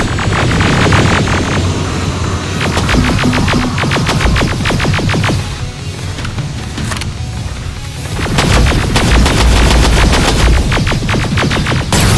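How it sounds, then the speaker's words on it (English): Heavy, loud gunfire in Terminator: Resistance, with bursts of rapid automatic shots that ease off briefly mid-way, then return under a noisy, booming battle din. "Don't stop shooting!"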